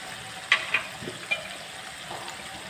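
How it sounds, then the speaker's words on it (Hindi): Ground tomato and onion paste fries in a kadhai over a medium-high stove flame, giving a soft continuous sizzle with a few sharp spits and stirring clicks close by. "टमाटरों को और प्याज को पीस कर मैंने अच्छी तरह से पीस कर वापस कढ़ाई को चूल्हे के ऊपर रख दिया है।"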